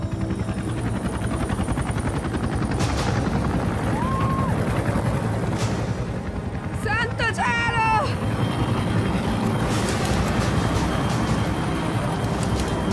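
Steady helicopter rotor noise drones throughout, with brief chirpy whistling tones and faint voices mixed in partway through.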